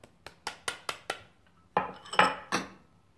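Thick chocolate candy batter being mixed in a bowl, a quick run of five sharp utensil clinks against the bowl, then a pause and a few heavier scraping knocks, close by with no talk.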